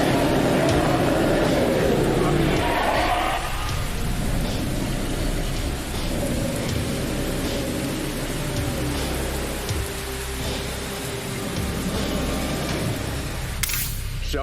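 Steady heavy rain shower with low thunder rumbling beneath it in an anime scene, a dense continuous hiss that stays loud throughout, with a sharp crack near the end.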